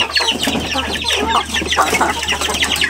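Chickens, some white and some mixed colour and several of them roosters, cluck and chatter continuously in a backyard coop, a loud, close flock with overlapping calls.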